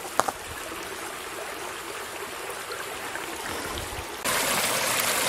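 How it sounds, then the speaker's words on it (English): Water from swampy forest land trickling and dripping downhill in a steady, close stream-like flow, with a couple of faint knocks early on and the flow growing louder near the end. "the swampy land from up here is slowly dripping down there."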